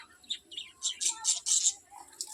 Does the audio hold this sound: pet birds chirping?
yes